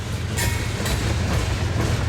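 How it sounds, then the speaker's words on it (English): A loaded Union Pacific freight train rolling past on a detour over the Spine Line, with a deep continuous rumble and rhythmic wheel clatter over the rails, close and steady. "Looks like they gave way to this UP train."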